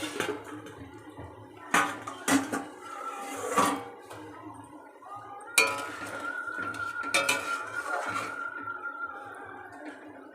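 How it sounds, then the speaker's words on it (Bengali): A pot lid comes off and a utensil stirs green banana and fish curry in a home kitchen, with sharp metallic clinks and scrapes against the pot between quieter stretches of low bubbling, close by and without speech. "এবার ঢাকনাটা তুলে একটু নাড়া দিয়ে নেব।"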